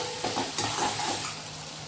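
Tomatoes, onion, ginger, garlic and chillies frying in a pan for dal fry tadka, with a steady close sizzle and repeated scraping stirs of a spoon through the mixture, no voices.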